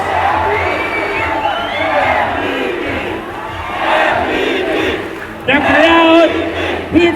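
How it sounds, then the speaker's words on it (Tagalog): A basketball championship crowd erupts in loud, sustained cheering and shouting, with a commentator talking excitedly over the roar, surging again near the end. "The crowd erupts."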